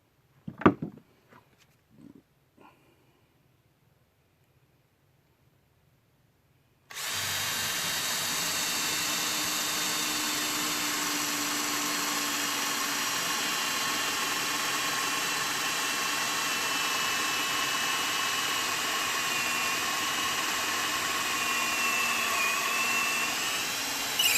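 A power drill boring a hole into a wooden rustic snowman, a few faint knocks and handling sounds first, then a loud, steady motor whine that runs unbroken to the end.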